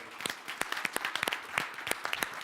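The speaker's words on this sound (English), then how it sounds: "we should start with a big round of applause to all the mothers" Audience applause at a conference session on free trade and the global economy, given in honour of mothers, heard as a short stretch of scattered, moderately loud clapping with distinct individual claps.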